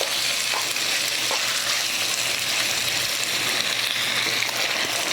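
Beef stir-frying in a hot pan, a loud, continuous dense sizzle with faint scrapes of the meat being tossed, close and without talk.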